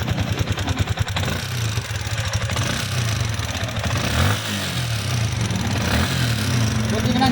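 A Yamaha Sniper 155 motorcycle engine starts up in a repair shop, an opening burst of rapid firing pulses settling into a fairly loud, rough running idle with small rises in revs, while someone talks over it.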